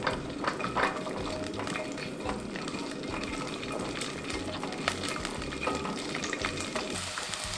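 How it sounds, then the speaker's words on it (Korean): Twelve whole garlic cloves stir-fry in hot oil until golden, giving a dense, steady sizzle and crackle close up, with occasional soft scrapes of a utensil in the pan throughout. "노릇노릇하게 볶아줄게요."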